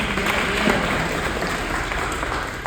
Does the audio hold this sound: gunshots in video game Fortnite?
no